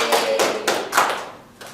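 A few classroom hand claps during a microteaching lesson, heard as four or five separate loud slaps spaced about a third of a second apart, close by with no voices over them.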